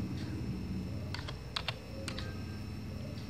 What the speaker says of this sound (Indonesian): kita coba run, kemudian kita ketik